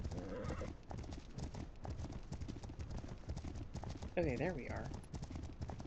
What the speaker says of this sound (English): The wild horses are just running into the camp, okay.